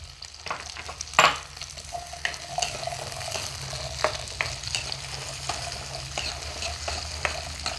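About 200 grams of whole shallots frying in hot oil, a steady sizzle under repeated stirring scrapes and clicks of a spoon against the pan, close by with one sharper knock early on.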